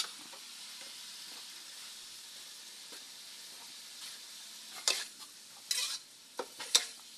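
Dinuguan being stirred in a frying pan, with a soft steady sizzle underneath and a few sharp scrapes and clinks of a utensil against the pan near the end.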